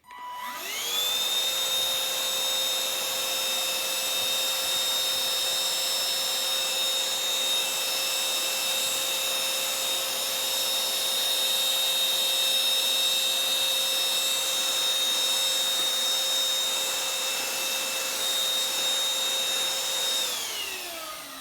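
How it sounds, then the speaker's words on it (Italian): Silvercrest cordless cyclone vacuum cleaner with only the nozzle fitted, running in normal mode: a steady high-pitched motor whine spinning up at the start, holding constant, then winding down at the end, close and loud. "ho messo solamente il beccuccio per l'aspirapolvere senza alcun aiuto da parte delle setole"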